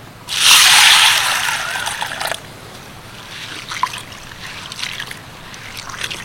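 Sago being washed by hand in a large bowl of water, a loud burst of sloshing and splashing early on, then softer intermittent squelching and trickling as the grains are kneaded, with no talk.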